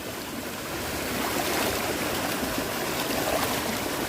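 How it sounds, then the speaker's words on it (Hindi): A forceful mountain stream rushes over rocks on a trek to the Gavli Dev waterfall. It makes a continuous, close, dense wash of water noise with no voices. "This is a pure water source. It is coming high up from the mountains."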